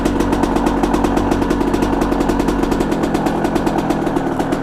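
A dirt bike engine runs steadily near and loud, its rapid firing pulses ticking in an even, slightly rough idle rhythm with mechanical clatter throughout.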